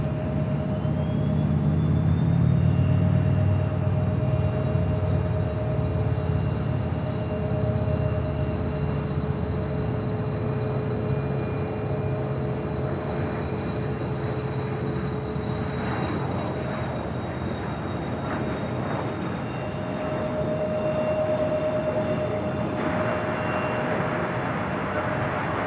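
A Cessna 560XL Citation XLS business jet takes off from runway 25 left at Los Angeles International Airport: a broad, steady engine roar with deep rumble, heard from a distance and sustained for the whole stretch.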